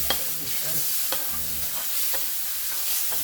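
Steady sizzling of minced pork and eggplant stir-frying in a wok, with repeated scraping strokes of a spatula stirring it, close and continuous.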